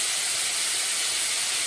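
Garam masala dropped into hot oil for tempering while cooking a curd-marinated chicken gravy, giving a loud continuous sizzling hiss close to the pan with no talk.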